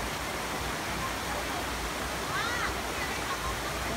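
A waterfall roars as a dense, constant broadband rush of falling water, close and loud throughout. A faint voice cuts in briefly over it.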